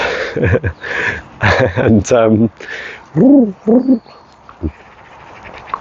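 Pigeons cooing nearby, several rounded, throaty coos in uneven bursts, fairly loud and close, with a voice speaking briefly among them.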